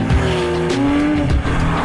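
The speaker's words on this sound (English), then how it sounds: "The Porsche 911 is famous for both its iconic shape and its rear-mounted flat six-cylinder engine." A Porsche 911's rear-mounted flat six-cylinder engine runs loud and close with a continuous droning tone whose pitch climbs and shifts, along with a hint of tire noise.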